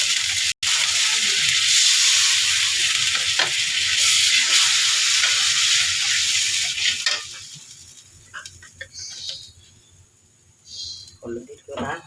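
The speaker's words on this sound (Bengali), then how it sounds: "পেঁয়াজটা তেলের উপর বেশি করে ভেজে নিতে হবে" Onion paste sizzles loudly in hot oil for about seven seconds, a dense steady frying hiss, then drops away to quieter scattered clinks and faint kitchen sounds.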